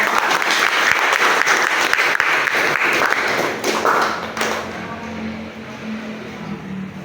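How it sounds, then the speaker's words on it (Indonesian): Audience applause for a student group after their presentation in an academic supervision session, a loud, busy patter of many hands that thins out and fades over the last few seconds into room noise. "Tepuk tangan dulu untuk kelompok."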